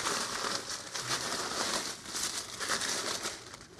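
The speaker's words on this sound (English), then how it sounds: "I am so sorry about the crinkling." Tissue paper crinkles inside a seasonal gift bag, a dense continuous rustle that stays loud and close throughout with no pauses.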